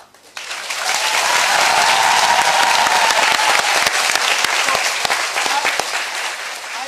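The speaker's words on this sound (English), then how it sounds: "Please welcome with a loud round of applause." A large crowd breaks into loud, sustained applause that starts suddenly and keeps going at full strength, at a graduation ceremony.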